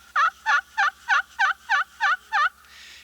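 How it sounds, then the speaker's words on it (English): Eight evenly spaced old hen yelps from a slate turkey call, played near the center of the slate with the peg, loud, close and rhythmic, followed by a short quiet tail. "You can get the old hen yelp by yelping closer to the center and moving up on the peg"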